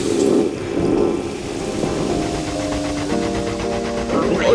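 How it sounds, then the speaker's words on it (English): A new flush toilet flushing: a rush of water gives way to a steady mechanical hum with droning tones, loud and close, with no talking. "do adore this new flush toilet."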